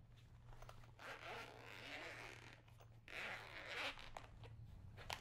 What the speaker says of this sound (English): on the top, we have a single zipper opening for the main compartment